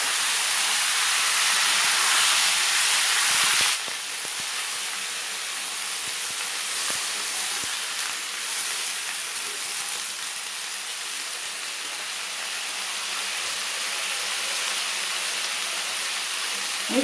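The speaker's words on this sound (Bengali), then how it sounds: "এখন আমি সবজিগুলো দিয়ে দেবো।" Vegetables sizzle and hiss in a hot pan for a vegetarian curry. A loud burst of hissing settles into a steady, slightly quieter sizzle that continues throughout.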